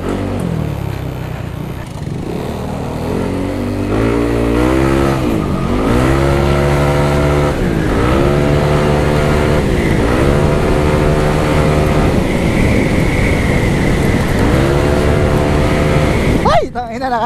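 A Yamaha Aerox scooter engine revs up repeatedly, the pitch climbing in rising sweeps through the gears, loud and close, with a steady mechanical drone underneath.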